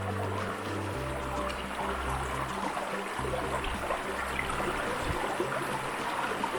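Water flows steadily through a gold-prospecting sluice lined with dream mat and V-matting, giving a constant rushing trickle with a few faint splashes and no speech.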